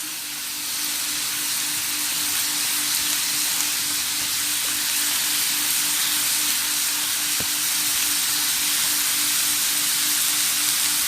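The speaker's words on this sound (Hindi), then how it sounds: "देखिए हाई फ्लेम पे अब हम इसको फ्राई कर रहे हैं।" Homemade McDonald's-style French fries deep-frying in well-heated oil over a high flame give a steady, dense sizzling hiss that holds evenly for the whole stretch, close and unbroken, with no voices.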